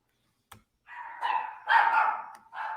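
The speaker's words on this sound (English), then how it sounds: "because the dogs are barking" Dogs bark nearby in a short burst of about three or four loud barks with brief gaps, following a single faint click, in an otherwise quiet indoor room with no talking.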